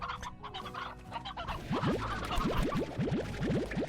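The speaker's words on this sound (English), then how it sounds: "what is with all these chickens that are getting out of their pen?" Chickens in Slime Rancher, loose from their pen, cluck and squawk in repeated short bursts, near and fairly loud, over a steady game background.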